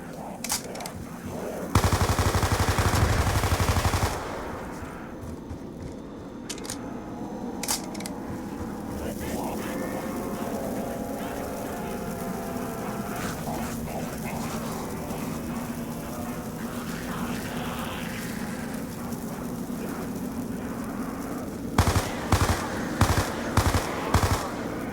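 Bursts of MP5 submachine gun fire in Black Ops 2 Zombies on the Town map: a sustained rapid volley early on, then short clipped bursts near the end, with game effects and a talking voice throughout.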